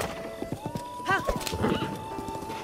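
Horse sounds in Zelda: Breath of the Wild, with hoof clip-clop, a whinny and a short snort over game music, close and moderately loud.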